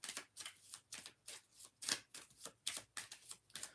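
Someone types on a keyboard nearby, giving quiet, rapid clicks in short irregular bursts with no talking.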